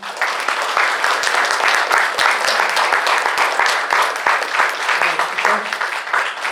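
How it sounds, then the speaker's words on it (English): Audience applause for panelists at an evening informational forum, a full room clapping steadily with crisp individual claps audible, sustained at a consistent level. "How about a round of applause for them?"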